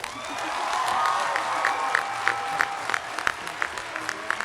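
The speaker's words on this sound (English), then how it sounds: "can we clap if everyone was blown away by the amazing look of the trailer just now?" A convention panel audience claps and cheers for a show trailer, a steady mid-level wash of applause with some sharp individual claps standing out near the end.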